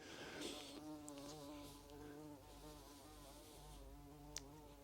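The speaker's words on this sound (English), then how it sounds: "Bleeding bee." A bee buzzes close by, a steady droning hum that rises and falls in pitch as it hovers and circles near the microphone for several seconds, over quiet outdoor background.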